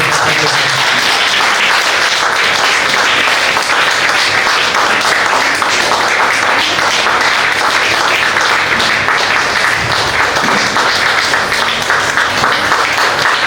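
A church congregation claps together in a sustained, dense burst of applause that stays loud and steady throughout, filling the room evenly with no pauses.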